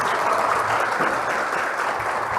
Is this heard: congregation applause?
yes